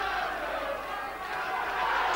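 A roaring boxing crowd in uproar at a British super featherweight title fight as spectators pour into the ring; a dense, steady wall of shouting and cheering, loud throughout.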